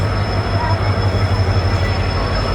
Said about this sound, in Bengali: করমণ্ডল এক্সপ্রেস আমাদের ঢুকছে প্ল্যাটফর্মে।